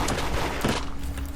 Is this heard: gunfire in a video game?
yes